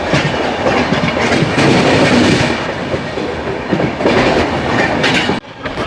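Loud, continuous rumble and clatter from inside the Tamil Nadu Sampark Kranti superfast express running on the tracks near Dornakal Junction, with rhythmic wheel clicks and a brief drop in noise near the end.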